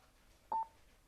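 A FREECOM 4 intercom gives one short, faint electronic tone during pairing. It sounds alone against a quiet background.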